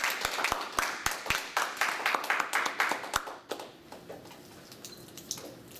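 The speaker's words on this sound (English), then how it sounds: "Let's clap for my call." About a dozen sharp, evenly spaced claps ring out at a steady rhythm after a classroom informative speech on contact lenses, then stop, leaving quiet murmuring and faint room noise.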